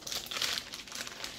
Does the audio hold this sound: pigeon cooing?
no